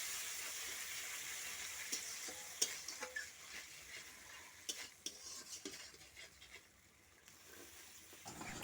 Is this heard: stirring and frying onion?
yes